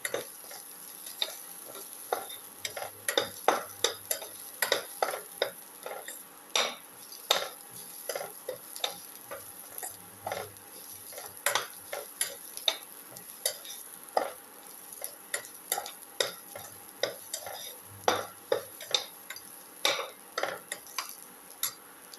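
Onions or shallots sauté with salt in a pan, with a soft background sizzle broken by frequent sharp scrapes and clicks of a utensil stirring against the pan, irregular and close.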